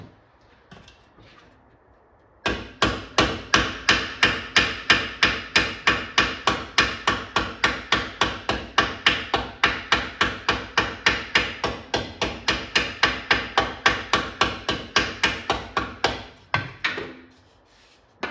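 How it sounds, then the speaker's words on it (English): Rapid, evenly spaced metallic taps of a hammer on motorcycle sheet-metal parts against a dolly, dozens of light blows in a steady rhythm, close by. "when it comes to hammer and dolly, less is more. Hit it lightly."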